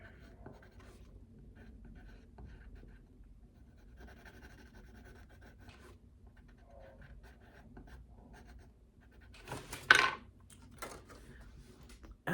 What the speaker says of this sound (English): I'm just going to color a little bit around the fish a little more.